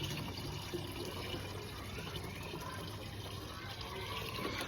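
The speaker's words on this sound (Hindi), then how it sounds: "3 लीटर जो हमने लिक्विड बनाया है वो इस पानी के अंदर मिक्स कर देंगे" Liquid fertilizer is poured into about 3 litres of water as a lemon plant growth booster, a steady, soft stream of pouring and splashing liquid, constant and fairly faint throughout with no talking.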